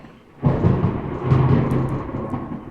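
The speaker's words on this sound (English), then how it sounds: "There is so much thunder happening today" Deep, rolling thunder booms in suddenly after a quiet moment, then rumbles loudly and steadily on during a stormy day.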